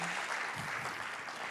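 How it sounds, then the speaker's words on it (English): Applause from a conference audience greeting two speakers walking up for a talk on AI and humans at work, a dense steady clatter of many hands lasting briefly with no break. "Give them a big round of applause, everyone"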